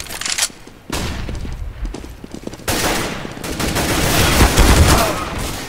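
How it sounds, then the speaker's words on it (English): Gunfire, explosive bursts and a flashbang grenade detonation inside a CS:GO match against bots, loud and dense, with several sharp blasts and continuous shooting filling the second half, a voice briefly heard underneath. "Flashbang!"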